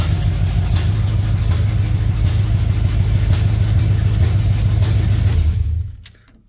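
The engine of a 1982 Chevy C10 pickup runs loud and steady with no exhaust fitted, a rough low rumble close by that cuts off at the end.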